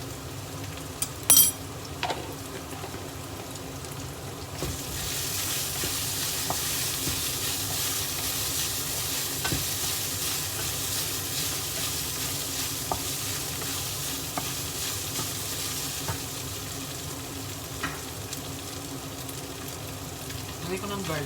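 Ground pork fries with chili powder in a hot pan while being stirred, giving a constant loud sizzle with scattered scrapes and clinks of a utensil, preceded by a brief metallic clatter before the frying swells.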